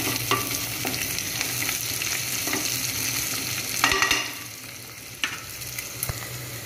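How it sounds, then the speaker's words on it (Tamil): Ingredients for chicken biryani sizzle and fry in a pan, a steady close hiss broken by occasional sharp scrapes and clinks of stirring, with no voices. "இப்போ நல்லா வதங்குது"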